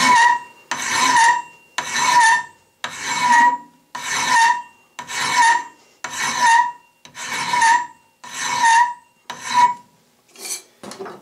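A hand file rasps across metal held in a vise, about ten even back-and-forth strokes in a steady rhythm, loud and close with short gaps between them.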